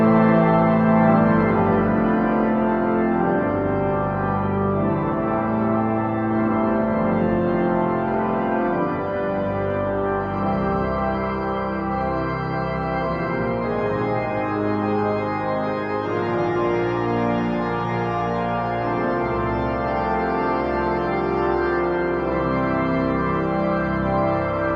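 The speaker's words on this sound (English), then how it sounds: "So the full chancel swell, give or take a few things, sounds like this." Full chancel swell division of a church pipe organ playing a sustained chord passage, rich and steady with a dense spread of pipes, loud and continuous throughout with no talking.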